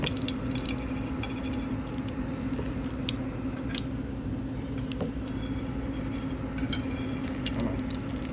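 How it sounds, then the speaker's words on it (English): Hot oil dripping and draining off golden fried eggplant slices, a continuous soft patter with faint sizzling ticks and small drips throughout. "And then drain all this oil off"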